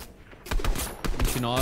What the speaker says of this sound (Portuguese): Tem alguém me atirando, velho.